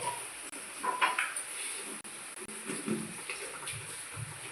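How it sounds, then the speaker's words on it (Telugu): Dal being stirred into a pot for sambar, soft repeated scraping and clinking of a spoon against the metal pot with a faint background hiss, close and fairly quiet, with no talking. "పప్పు వేసుకొని కలుపుకోవాలి"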